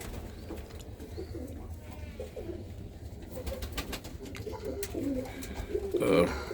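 Birmingham Roller pigeon hens cooing in a loft, soft repeated low coos close by over a murmuring background, with faint voices in the room.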